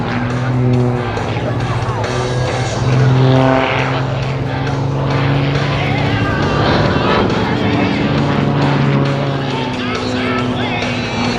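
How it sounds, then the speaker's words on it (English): A jet car fitted with an F-5 Tiger/T-38 Talon engine roars past low at an air show, loud and sustained, swelling as it passes under an announcer's voice. "That was a low pass indeed as Paul Skelly makes his own weather system"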